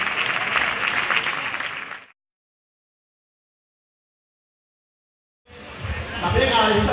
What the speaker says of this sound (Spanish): Un fuerte aplauso también para Julio Vargas